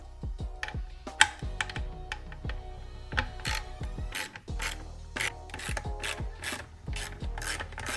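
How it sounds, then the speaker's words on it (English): Torx T25 bolts being unscrewed from the tail light bracket on a 2023 Harley-Davidson Road Glide or Street Glide, heard as a steady run of close, sharp ratchet clicks and metallic tool taps with scraping, no voices. "Now let's remove the 3 T25 bolts that are holding the bracket to the housing."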